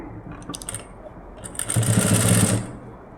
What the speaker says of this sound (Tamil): நான் ஒரு தையல் போட்டதோட உங்களுக்கு ஃபினிஷ் பண்ணி காமிக்கிறேன்